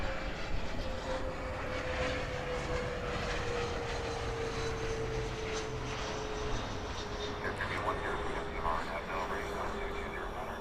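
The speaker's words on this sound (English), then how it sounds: "A little small plane," A small propeller plane passes at Los Angeles International Airport, its engine drone falling in pitch as it goes by over steady outdoor ambience, with people talking over it.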